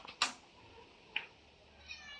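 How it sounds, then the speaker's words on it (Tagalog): Hungry cats meow faintly at feeding time as chicken innards are served, with two or three short, thin cries spaced apart against a quiet background. "Ngayon naman po, pakakainin natin yung mga pusa."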